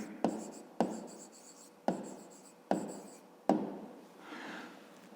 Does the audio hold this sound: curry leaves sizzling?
no